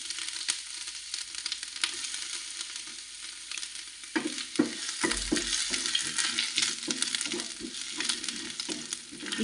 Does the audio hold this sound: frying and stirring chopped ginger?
yes